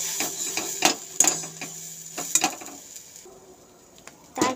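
A spoon scrapes and taps against a pot while milk is stirred during cooking, giving a few sharp irregular clicks and knocks over a low background.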